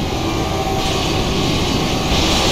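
Trains passing in the game Ratchet and Clank Future: Tools of Destruction make a loud, continuous rumbling roar that stays steady and dense from start to finish, with no pauses.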